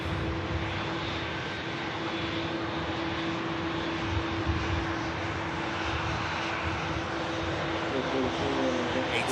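Aircraft engines hum and drone as planes taxi at Manchester Airport, a steady, moderately distant roar with a faint tonal whine running throughout.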